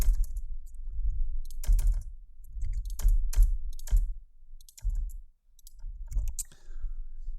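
Computer keyboard typed on while writing code for a React login system, close clusters of crisp key clicks in short bursts separated by brief pauses, with a low thudding underneath and no speech.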